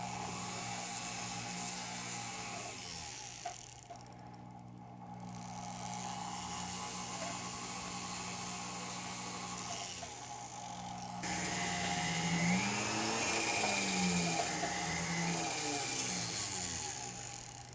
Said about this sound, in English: we use a barrel wheel here, and we'll be able to even that up